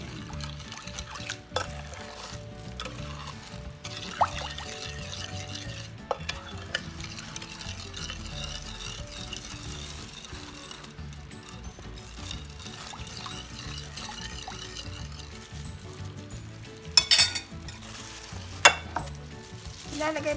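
Pork tocino being stirred into a pineapple juice marinade, a steady wet sloshing and mixing texture running throughout, with a few sharper clinks and knocks near the end.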